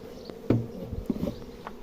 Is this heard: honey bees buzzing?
yes